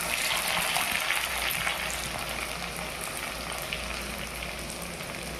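Onions and chopped tomato fry in a pan, giving a steady, even sizzle with a faint watery hiss, close and continuous with no talking.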